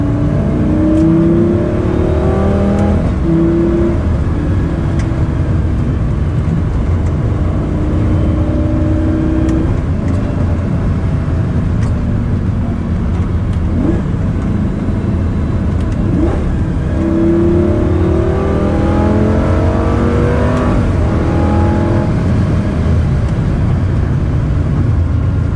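A first-generation Lamborghini Gallardo V10 with a single-clutch automated gearbox drives hard and loud, its engine note rising through the revs and dropping at several gear shifts, with a steady throaty roar filling the whole stretch.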